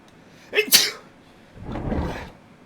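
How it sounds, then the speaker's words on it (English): A person sneezes once, close and loud. A sharp, breathy burst is followed by a softer, longer exhale, with no talking. "Sorry guys, I needed to sneeze."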